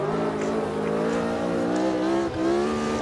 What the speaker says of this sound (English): Listen to how responsive the engine is though.